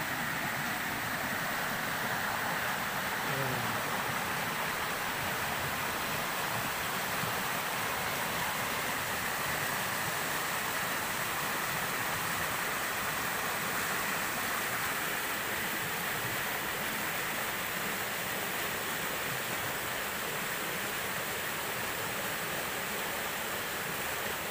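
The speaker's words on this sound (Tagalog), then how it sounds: "Kaya pala malakas ang agos" A strong river current rushes through a forest, producing a loud, steady roar of flowing water that continues without a break and with no voices.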